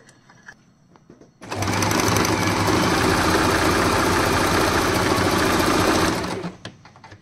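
An Usha Janome Stitch Magic sewing machine runs a three-thread stitch in a loud, steady, close mechanical whir that starts after a quiet moment and stops near the end, followed by faint handling noises.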